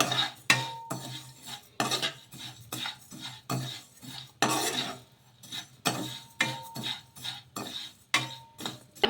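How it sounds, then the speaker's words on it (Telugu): Wheat semolina (godhuma rava) roasts in a pan for a cabbage breakfast dish while a utensil scrapes and stirs it, giving rhythmic scraping strokes roughly every half second, close and clear with no talking. "ఇంకా గోధుమ రవ్వను కూడా వేసేసాను వేసుకొని ఇలా మరి కొద్దిసేపు వేయించేసుకుందాము"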